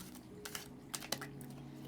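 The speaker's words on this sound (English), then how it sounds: "So I'm going to shuffle." Tarot cards are shuffled by hand, giving soft, quiet papery flicks and riffles in short bursts over a low steady hum, with no talking.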